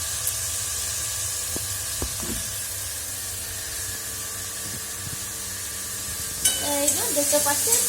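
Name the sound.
food frying and sizzling in a pan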